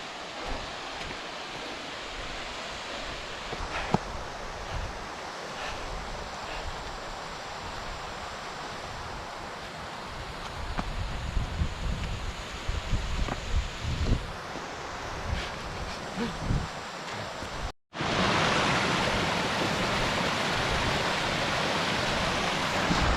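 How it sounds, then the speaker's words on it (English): Sour Milk Gill, a stream on the walk to Bleaberry Tarn in the Lake District, gives a steady broadband rush of running water mixed with wind buffeting the microphone, louder toward the end after a brief cut. "Soon enough you'll start to hear water again from Sour Milk Gill"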